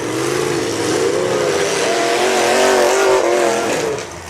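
A demolition derby car's engine revs hard and loud in a sustained roar, its pitch rising and wavering as the throttle is worked, close up at an outdoor derby arena.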